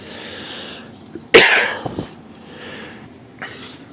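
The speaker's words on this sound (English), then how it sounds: "sorry guys, I tried to get paused before I coughed there." One sharp, close cough bursts out suddenly, followed by a couple of smaller throaty catches, against a quiet room.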